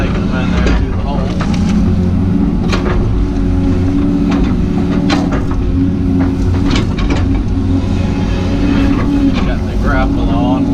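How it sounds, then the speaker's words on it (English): A skid steer works close by, grabbing uprooted plants and carrying them to a hole while clearing and grading a new yard. Its engine drones steadily and loudly throughout, with scattered knocks and clatter over the top. "he's grabbing them with the skid steer and taking them in there to the hole"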